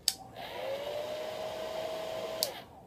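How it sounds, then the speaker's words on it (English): A household blow dryer on its low setting blows steadily, a soft, even whoosh with a faint whine that switches on, holds, and cuts off near the end, close and alone in a quiet room. "So, this is my dryer on low."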